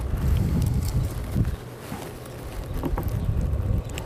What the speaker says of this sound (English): the wind is blowing my cilantro all over the place